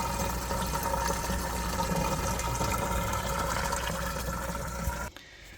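An RV washing machine drains with a steady, loud rush of water and pump hum that runs continuously, then abruptly cuts off near the end, leaving quiet room tone.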